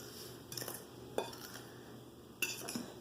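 A fork scrapes and taps against a bowl while mixing dry tortilla ingredients, giving a few scattered clinks and scraping strokes, close and fairly quiet, with no talking.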